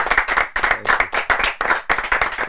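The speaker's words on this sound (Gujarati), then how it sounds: "એક વખત જોરદાર તાળીઓ" An audience claps for a guest on a Gujarati film podcast, in several bursts of close, lively applause with short pauses between them.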